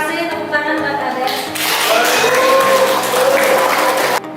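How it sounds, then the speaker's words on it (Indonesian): A classroom audience applauds for a student named Ade, a dense wash of clapping that rises about midway and holds steady, with voices and tonal sounds layered over it. "tepuk tangan buat Ade."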